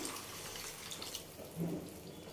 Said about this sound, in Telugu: నేనైతే ఇంకొంచెం వాటర్ వేస్తున్నాను.